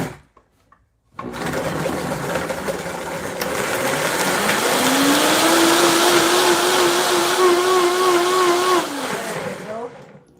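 A kitchen food processor whirs to life after a brief silence, its motor pitch rising and holding steady as it chops salsa ingredients, loud and close, then spinning down at the end.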